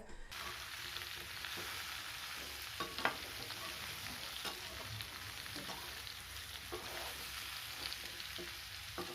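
Steady sizzling of vegetables sautéing in a pan for pumpkin curry, with occasional scraping stirs over the continuous crackle.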